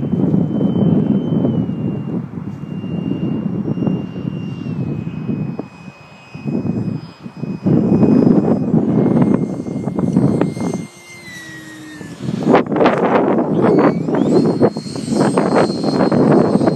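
E-flite F-4 model jet coming in to land on a windy day, its ducted-fan whine shifting pitch as throttle changes, mixed with heavy gusting wind buffeting the microphone, with brief lulls.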